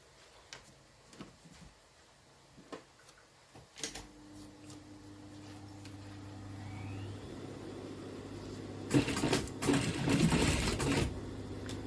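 A sewing machine with a standard presser foot stitching a zipper onto fabric. Scattered clicks and taps give way to a steady mechanical whir that builds and runs through to a louder, rattling burst near the end.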